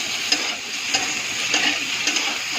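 Chopped tomato and onion sizzling in a frying pan for egg bhaji, a steady close hiss with faint periodic scrapes of stirring, no voices.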